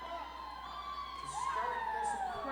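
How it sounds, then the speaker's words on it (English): Roller derby crowd at a Vancouver Murder versus Texas Outlaws bout rises into cheering and whoops, steady and moderately distant, with a few high shouts and a whistle-like tone running through the noise. "Crowd is getting a bit more excited."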